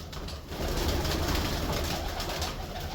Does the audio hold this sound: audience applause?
no